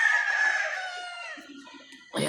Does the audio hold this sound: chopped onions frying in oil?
no